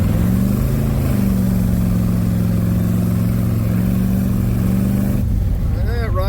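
A 1975 Corvette engine drones steadily while driving after carburetor and timing adjustments, a loud continuous rumble heard from inside the car, with a brief change in tone near the end.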